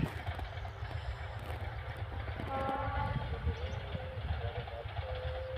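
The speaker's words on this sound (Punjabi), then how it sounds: "ਇੱਕ ਟ੍ਰੇਨ ਹੋ ਜਾਂਦੀ ਹੈ" A train rumbles past at a distance, low steady rolling noise with faint horn-like tones rising midway, people talking quietly nearby.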